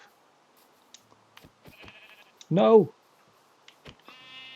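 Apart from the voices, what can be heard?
sheep bleating in Minecraft video game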